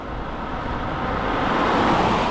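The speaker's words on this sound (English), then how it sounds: "it does somehow seem busier with traffic" Road traffic passes a cyclist on a busy road between Selfoss and Thingvellir National Park in Iceland, a loud steady roar of a passing vehicle that swells as it nears, with no talking.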